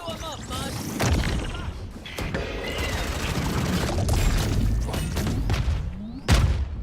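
Valorant gameplay full of booming impacts and crashing bursts, with a sharp, loud blast near the end rising above a dense, busy mix of game effects.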